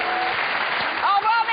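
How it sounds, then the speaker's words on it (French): Studio audience applause on a French entertainment show, dense and fairly loud clapping throughout with a voice speaking over it near the end. "Je demande d'applaudir Michael Vendetta qui était avec nous ce soir"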